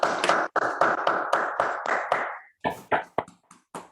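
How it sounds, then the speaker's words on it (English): Scattered applause from an online audience coming through unmuted microphones, a sparse run of distinct claps followed by a few irregular taps, close and loud with no talk over it. "Everyone can unmute your microphone and give a big applause to Professor Nualart."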